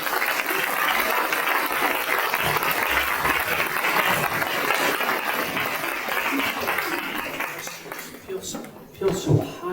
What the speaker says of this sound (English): applause for Supervisor Melgar